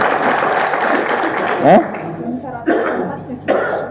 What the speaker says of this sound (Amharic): ሞቅ ያለ ጭብጨባ